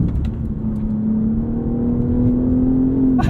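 BMW M3 CS sedan engine accelerating hard out of a curve, a steady rising drone that climbs in pitch as revs build, loud and continuous from inside the car with no talking.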